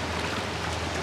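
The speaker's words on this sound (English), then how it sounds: "It started raining" Steady, dense hiss of rain falling in Saint Lucia, even and continuous with no distinct drops standing out, fairly close and moderately loud.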